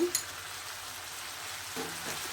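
Boiled macaroni drops into a pan of frying beef chow mein, a steady close sizzle with soft stirring and a brief clatter near the end.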